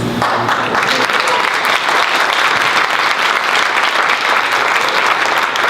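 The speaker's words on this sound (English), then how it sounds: "let's give her another round of applause" An audience at a Black history program breaks into strong, continuous applause, a loud, even roar of many hands clapping that holds without letup.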